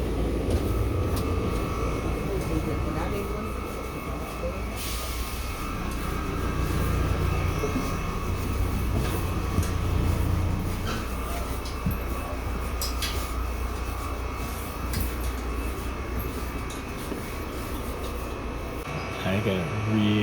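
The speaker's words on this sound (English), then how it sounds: "so that's my New Jersey Transit train" New Jersey Transit commuter train rumbling steadily and loud throughout, a continuous low roar with rattling as it rolls past or idles at the platform.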